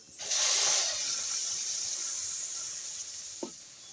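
Milk poured into semolina frying in a hot pan, a sudden loud hiss and steamy sizzle that slowly fades, followed by a single short clink near the end.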